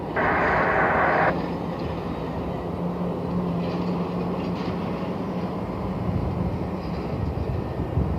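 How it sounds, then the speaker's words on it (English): A Southwest Boeing 737 MAX 8 airliner taking the runway at Cleveland airport, heard as a steady, loud broadband jet roar and rumble that holds throughout, with a brighter whine at the very start. "Southwest 1652 taking the runway. It's a 737 MAX 8."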